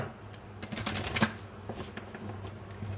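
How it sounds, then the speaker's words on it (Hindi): Tarot cards are shuffled and drawn from decks, a brief flurry of crisp riffling and slapping with soft papery flicks, close and quiet, with no talking. "मैं एक बार ट्रू लव और एक्ल डेक से भी कुछ कार्ड्स निकाल लेती हूँ"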